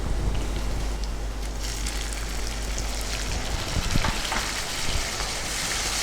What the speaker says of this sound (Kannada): ಓಕೆ, ಫ್ರೈ ಆಗ್ತಾ ಇದೆ. ಟೊಮೆಟೊ ಹಾಕೊಳ್ಳಿ.